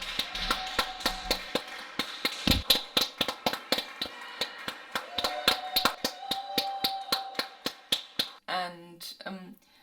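Neighbours clapping from windows for medical workers during the Paris lockdown, sharp claps in a steady quick rhythm echoing off a small courtyard, moderately near, ending with a short burst of other noise.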